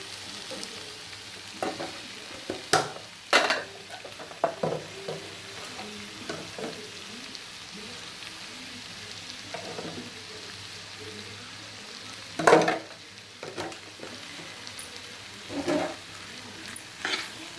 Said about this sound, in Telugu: కారం యాడ్ చేసిన తర్వాత కారం బాగా కలిసేటప్పుడు కలపండి